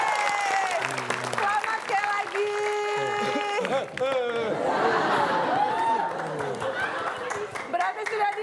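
A studio audience applauds the winner of an Indonesian quiz show, with steady clapping and crowd chatter under a host's voice and background music.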